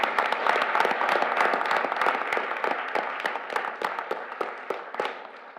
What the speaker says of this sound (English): For that, I think we owe a round of applause to everyone that was involved in it.